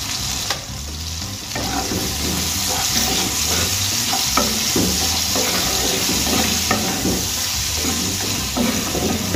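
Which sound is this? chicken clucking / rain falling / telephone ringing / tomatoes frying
tomatoes frying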